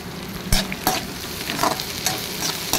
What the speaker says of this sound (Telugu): ఆనియన్స్, మిరపకాయలు కూడా వేసేసుకొని వేయించేసుకోవాలి